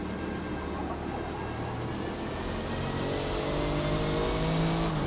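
A car engine races steadily in the Forza racing game, a continuous loud drone with rising revs and a faint whine building toward the end, with no talking.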